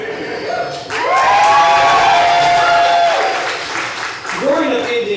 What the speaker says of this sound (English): I'll hold for applause.